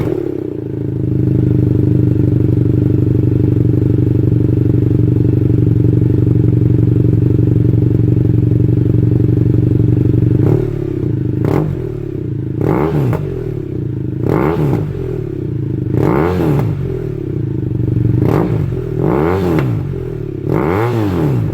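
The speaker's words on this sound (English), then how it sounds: "let's fire it up and see what it sounds like" A BMW F700GS motorcycle fitted with a DANMOTO carbon GP exhaust idles loudly and steadily, then is revved in a series of sharp, rising throttle blips. The close, powerful engine note rises and falls with no talking.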